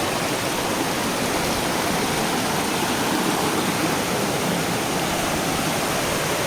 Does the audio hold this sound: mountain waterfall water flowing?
yes